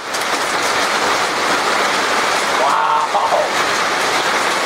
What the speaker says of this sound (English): big chunks of hail. I see leaves all over the top of my greenhouse